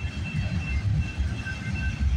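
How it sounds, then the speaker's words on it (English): CPKC 231, a freight train passing on the Galt Subdivision at night, heard as a steady close rumble of rolling wagons with faint high squeals from the wheels. "Symbol on this train is CPKC 231."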